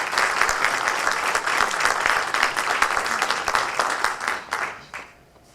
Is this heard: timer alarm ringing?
no